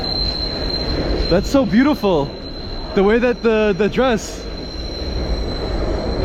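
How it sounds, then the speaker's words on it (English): A subway train runs beneath a city street, and its wheels squeal in loud, wavering, high-pitched bursts that come and go, while people talk nearby over a constant traffic hiss. "There goes the subway."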